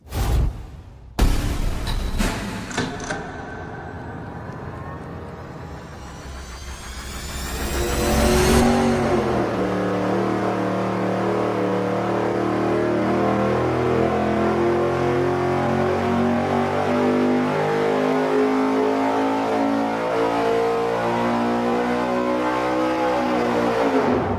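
A V8 with dual quad carburetors on a tunnel ram runs on a dyno, roaring loud and close: a few sharp revs at first, then a sustained full-throttle pull that holds a heavy, steady drone.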